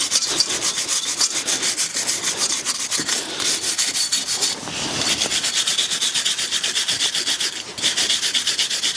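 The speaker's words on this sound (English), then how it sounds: "Now we'll just give the hub and all behind here a good clean up before we install the new disc." The front brake hub of a BMW F20/F21 1 Series is scrubbed clean during a brake disc change, giving steady rhythmic rasping strokes close by with no talk.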